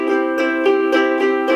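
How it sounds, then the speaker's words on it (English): Ukulele strummed in even straight eighth notes, down and up strokes evenly spaced, about six bright chordal strums in a steady pulse, close and clear with no talking. "straight 8th notes sound like this."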